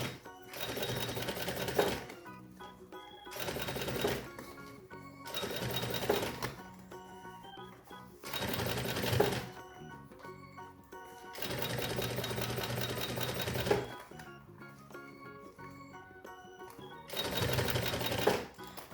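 A sewing machine stitches a fabric zipper pouch in repeated bursts of rapid whirring, each run a few seconds long and separated by short pauses, close and steady throughout.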